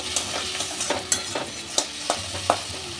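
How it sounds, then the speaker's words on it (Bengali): Diced tomato frying with salt and spices in a pan, a steady low sizzle broken by several sharp scraping stirs of a spatula, close and fairly loud with no talking. "টমেটোটা অল্প একটু ভেজে নেব।"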